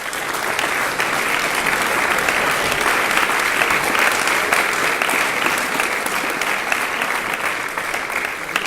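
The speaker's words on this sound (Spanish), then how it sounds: "Nuevamente les brindamos un fuerte aplauso." Loud, dense, steady applause fills a hall at a literary magazine launch, the many hands merging into an even roar that holds without a break.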